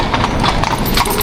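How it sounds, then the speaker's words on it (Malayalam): Horse hooves clip-clop on a Vienna street as a tall carriage horse pulls a tourist carriage, steady close strikes over a busy outdoor background. "കുതിരകളെ വെച്ചിട്ട് ഇങ്ങനെ ടൂറിസ്റ്റുകൾ കൊണ്ടുപോകുന്ന ഒരു സെറ്റപ്പാണ്."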